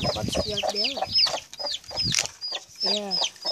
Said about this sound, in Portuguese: Essa galinha que tá muito brava com os filhotes dela.